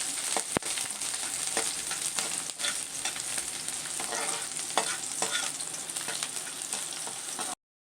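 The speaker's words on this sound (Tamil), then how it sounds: "இது 2 கட்டி பூண்டு இதை சேர்த்துக்கலாம். அதில் நல்லா இதை ஃப்ரை பண்ணிக்கலாம்." Chopped garlic fries in hot oil for garlic fried rice, giving a steady, close sizzle with occasional stirring scrapes and clicks throughout.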